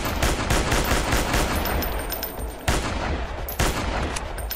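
Rifle fire in the hunting video game Dinosaur Hunter Africa Contract rings out in loud, rapid, sharp blasts that nearly overlap, with two brief gaps in the barrage, close and dominant.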